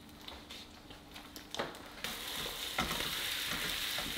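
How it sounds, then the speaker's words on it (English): Eggs frying in a hot pan give a steady sizzle that swells and grows denser partway through, with a few soft clicks and scrapes near the microphone. "You guys hear those eggs start to sizzle?"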